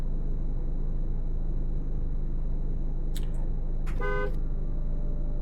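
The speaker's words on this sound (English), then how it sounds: "Let's honk the horn." A van's horn in the zombie survival game Cataclysm DDA gives a quick chirp and then a longer, buzzy honk over a constant rumbling engine drone, with no talking.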